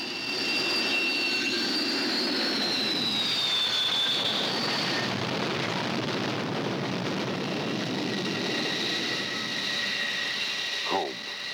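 An F-14 Tomcat jet approaches an aircraft carrier for landing, a sustained loud jet roar with high whining tones that shift in pitch, steady throughout with a brief sweep near the end.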